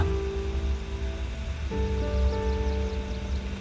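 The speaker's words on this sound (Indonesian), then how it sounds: "Di tengah gerimis" Light drizzle falls in a soft, continuous patter, with sustained musical tones playing underneath throughout.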